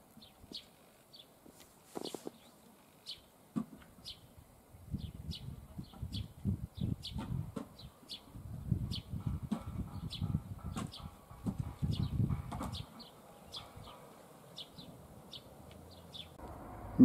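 Birds singing in a village garden, with short bright chirps repeating steadily throughout, joined midway by low rustling and handling noise close by before it quiets again.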